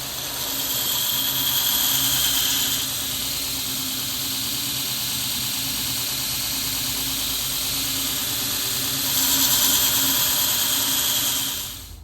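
A belt grinder runs steadily while grinding the bevels of a hardened Damascus steel knife, a loud continuous whine and hiss that swells slightly as the blade is pressed in, with no speech.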